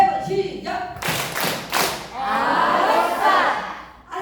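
An audience claps in three quick bursts of applause on cue at a laughter therapy session, loud and close, after a brief stretch of a voice speaking.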